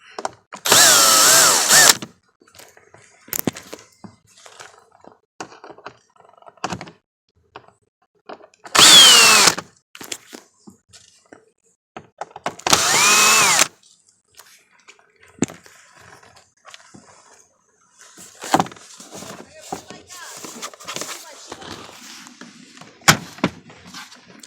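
Power drill spinning out screws from an interior panel of an Infiniti car, three loud whirring bursts separated by quiet handling clicks and rustling, then softer tapping and fumbling near the end.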